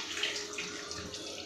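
Water is poured into a cooking pot, a brief close splashing pour with no voices over it.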